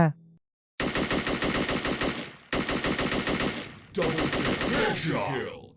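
Rapid bursts of AK rifle fire in the video game Special Force, loud and close, arriving as three long automatic strings separated by brief pauses, with no talk over them.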